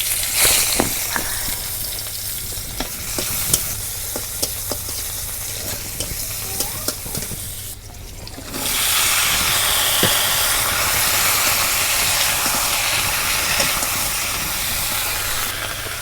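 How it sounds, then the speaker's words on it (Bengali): Small river fish (bata) frying in hot oil in a pan for a village fish curry, a steady broadband sizzle with stirring clicks, growing louder and denser after a brief dip midway, with no talk. "মাছ ভাজা হয়েছে, এখন আমি তরকারি সম্বাদ দেব।"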